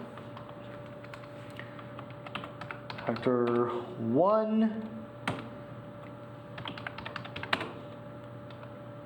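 Typing on a computer keyboard while editing titles in Adobe Premiere, steady close clicking of keys throughout, with a voice speaking briefly over it.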